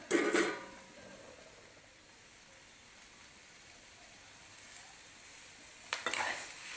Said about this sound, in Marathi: टोमॅटो आणि कांदा दोन्ही भाजून घेऊया